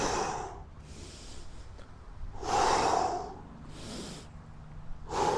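Heavy exhales during a slow lunge exercise come as three or four breathy, whooshing breaths spaced about a second or more apart, close and moderately loud, with quieter breathing between them.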